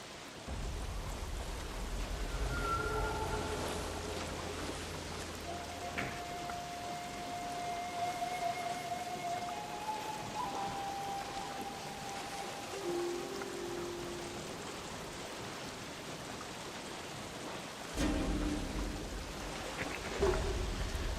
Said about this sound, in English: I love the sound of that rain around us.